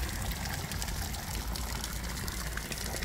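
Water pours steadily from the Jungbrunnen fountain in Bad Harzburg, a constant close splashing rush with no pauses and no voices.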